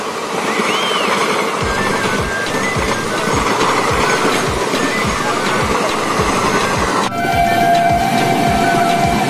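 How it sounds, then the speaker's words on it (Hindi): Sikkim Mahananda Express passenger train rolling past at close range, a steady loud rumble with rhythmic wheel clacks over rail joints and a brief high whistle-like tone near the end. "सिक्किम मानंदा एक्सप्रेस है, सिक्किम मानंदा एक्सप्रेस कानपुर जाती है दोस्तों।"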